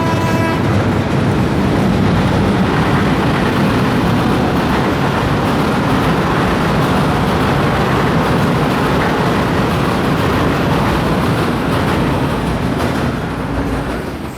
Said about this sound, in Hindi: रेलगाड़ी अब चोरल के जंगलों में अपनी रफ्तार पकड़ती है